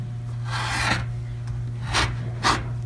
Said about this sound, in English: now I need to trim this seam allowance down to 1/8 of an inch